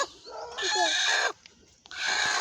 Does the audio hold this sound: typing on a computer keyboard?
no